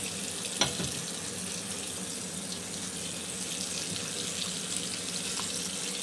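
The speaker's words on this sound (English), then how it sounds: "And under hot water that blade goes." Hot water runs from a tap in a steady, loud rush as a razor blade is rinsed under it, with one brief knock near the start and no talk.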